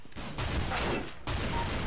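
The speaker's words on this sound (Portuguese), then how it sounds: "O tanto que eu enchi esse cara de tiro." Rapid gunfire in CS GO, a dense burst of shots packed into under two seconds with a brief gap, loud and sharp against the game's background.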